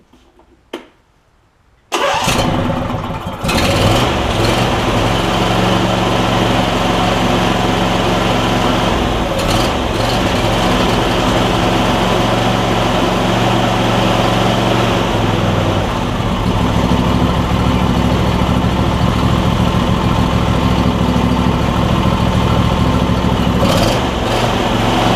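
A Briggs and Stratton engine on a John Deere E140 lawn tractor cranks and catches, then runs loud and steady at close range for over twenty seconds.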